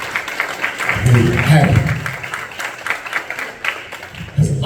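Audience applause swells briefly and fades, heard alongside a person speaking over it.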